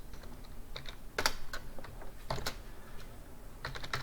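Keys clatter on a computer keyboard in quick, uneven bursts of typing, close and fairly quiet, with louder clicks standing out and no talking.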